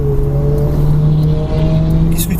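A Porsche Cayman S accelerates on a race track, its engine a loud, steady drone with pitch climbing gradually across the short stretch, heard from close by with no talk.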